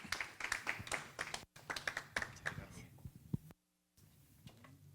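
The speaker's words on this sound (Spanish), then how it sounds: "Le damos fuertes aplausos." Audience applause at a public-health research ethics conference, steady clapping from a room of people that fades out, with a few scattered claps and murmurs toward the end.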